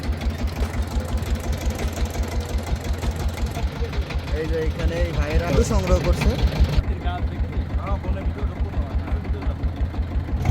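A steady, low throbbing boat engine drones throughout on a creek in the Sundarbans, with someone talking over it close by.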